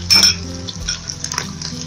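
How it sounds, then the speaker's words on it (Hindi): Spices such as garam masala and dry coriander powder go into a pot while cooking yakhni pulao, and a metal spoon clinks and scrapes against the pot in short, close taps. "अब हम इसमें मसाले अपने सारे स्पाइसेस डालेंगे"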